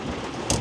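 Steady rain pours down on an outdoor ranch during a thunderstorm, a dense close hiss with a brief louder gust or spatter near the end.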